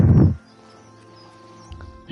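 A horse standing on a bridge in Oblivion Remastered gives a short low snort or hoof thud, then quiet ambience with faint birds and another soft thump near the end.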